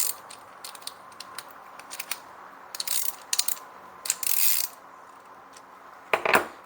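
A hand ratchet clicks in short bursts while snugging bolts on a small engine's carburetor, with rapid close pawl ticks separated by brief pauses and a final quick run at the end.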